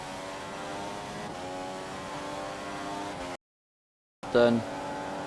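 A Formula 1 race car on the Spa circuit climbs a hill at 190 mph, its engine holding a high sustained whine before an abrupt cut to silence, then a brief burst returns alongside a voice.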